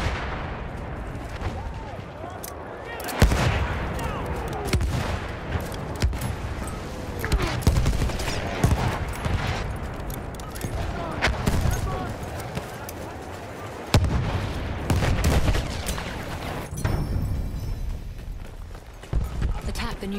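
An enemy artillery barrage in the video game Battlefield 1, with repeated booming shell blasts and crackling gunfire over dense battlefield noise and hoofbeats, continuing for the whole stretch under a voice.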